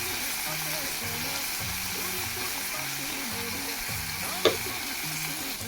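Silkworms sizzle in a hot pan with onion, chili and turmeric, a steady frying hiss throughout with soft stirring scrapes and one sharp clink near the end.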